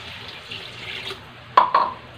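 Tap water running into a pot while cooking fish with malunggay and sweet potato: a soft, steady hiss of flow, then two sharp splashy clinks close together near the end.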